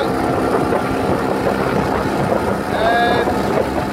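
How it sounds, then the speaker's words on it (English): Suzuki 15 hp F15 outboard motor driving a boat at full throttle in Greece, a steady loud drone half buried in heavy wind buffeting, with a voice talking briefly. "let's gas it down here and see what happens"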